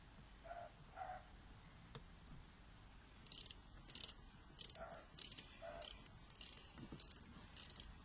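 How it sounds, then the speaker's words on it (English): Socket ratchet loosening an air filter bolt on a Porsche 911 996/997 gives quiet, close bursts of rapid clicking repeated in short strokes during the second half, with faint handling noises before. "I think I'm going to use the socket on that one as well"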